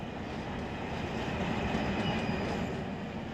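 A freight train rolls along in the Run 8 Train Simulator game, giving a steady dense rumble of wheels and engine throughout, constant and fairly loud with no talk over it.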